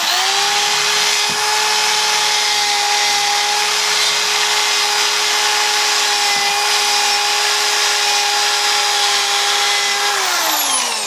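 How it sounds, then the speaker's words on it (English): A power drill whines steadily at high speed while a wire brush grinds rust off old cast iron down to bare metal, continuous and loud, winding down near the end. "just take my wire brush on my drill and go around every bit of it"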